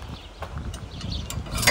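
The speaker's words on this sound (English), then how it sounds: "release this pin." A spring-loaded pin released on a bow stringer, a few quick metallic clicks and small mechanical snaps close by, quiet and brief with no talking.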